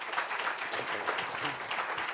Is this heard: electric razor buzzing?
no